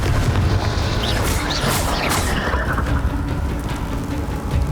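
Bombarda and Confringo spell blasts in Hogwarts Legacy on Nintendo Switch: loud, continuous booming explosions with rumbling bursts and crackling debris that fill the whole stretch without pause.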